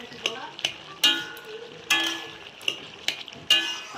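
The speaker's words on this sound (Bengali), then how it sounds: "এখন ভালো করে নাড়াচাড়া করব" A spoon stirs bottle gourd vegetable curry in a pan, giving sharp scrapes and clinks against the metal at irregular intervals up close, with a faint sizzle underneath.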